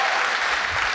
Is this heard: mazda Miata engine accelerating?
no